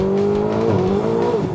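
A Corvette engine roars loudly, its pitch sliding as it revs and shifts through second and third gear, with a rough edge from the tires spinning.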